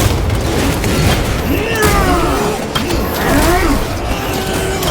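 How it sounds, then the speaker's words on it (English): A frag grenade blast in Warhammer 40000 Space Marine 2 booms loud amid ongoing battle noise, with rumbling bursts and a few pops layered under game voices. "Frag grenade deployed!"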